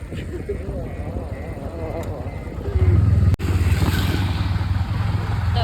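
A motorcycle is ridden along a road, its engine a steady close drone that grows louder partway through, with voices talking over it.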